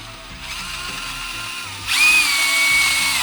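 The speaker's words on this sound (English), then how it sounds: "And this is a 15/32 drill bit I'm using." Power drill boring out grimy holes in a brake caliper bracket on a Ford Super Duty F250/F350 with a 15/32 bit, a steady close whine that rises sharply and grows louder partway through, no talk.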